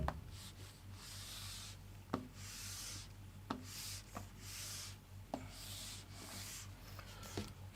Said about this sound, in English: let me rub this